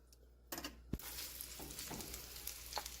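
Meat laid into a hot pan to brown the outside, a close sizzle and frying hiss that flares up sharply and keeps crackling steadily.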